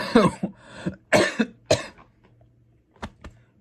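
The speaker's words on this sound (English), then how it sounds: "little bit of a cough with me" Several close, harsh coughs in a cluster, some coming in quick pairs, then a short quiet stretch before two brief final coughs.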